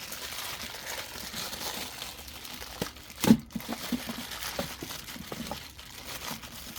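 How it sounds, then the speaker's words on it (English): Crinkly plastic packaging around a Heller HAP60 UV-C air purifier is handled during unboxing, giving soft scattered crackles and one sharper crunch midway, close and fairly quiet with no talking. "Very crinkly plastic."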